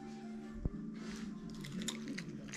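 A dog bites into a sweet potato at a dog-friendly cafe with one faint crunch followed by soft, quiet chewing beneath a steady background hum and room noise.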